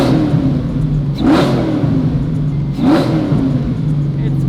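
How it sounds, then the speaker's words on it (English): A rebuilt RWB-bodied car idles steadily, then its engine is blipped in two gentle revs, each rising and falling with a whistling intake; the sound is close and alone, without talk. "some baby revs."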